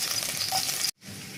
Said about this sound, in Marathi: तर प्रथम आपण टाकून घेऊया लसूण